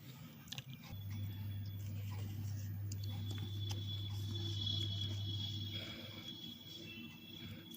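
Close, crunchy biting and chewing of a Kinder chocolate wafer over a low steady hum, with a few sharp crisp bites early on.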